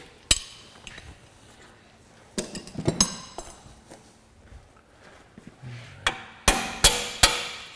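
Hammer blows knocking a loosened suspension bolt out of the strut and lower arm on a Land Rover Discovery, sharp metallic strikes in scattered single hits and a quick closing run of three, close by with no talk.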